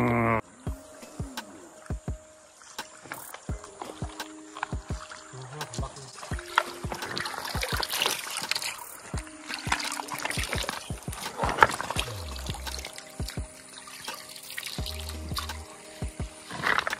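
Fast, cold stream water running through a paddy field where river prawns hide among stones, a steady rushing flow with splashes and clicks, with occasional voices nearby.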